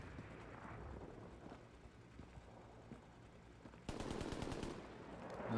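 Distant rapid machine-gun bursts and artillery fire from enemy forces in the World War II shooter Hell Let Loose, crackling on and off with a louder, denser burst of shots partway through.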